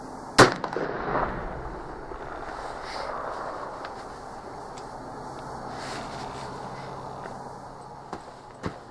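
A Tingle .44 black powder pistol fires one sharp, loud shot early on, followed by a rolling outdoor echo and quiet ambience, with faint small knocks near the end.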